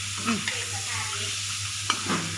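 Chili paste with pork rinds stir-fries in a pan, a soft steady sizzle under a few quick scrapes and taps of the spatula, close and without talking.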